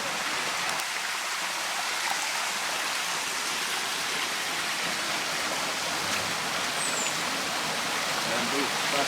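Diamond River running down from the volcano in St. Lucia, a steady broadband rush of flowing water heard close by, continuous and even throughout.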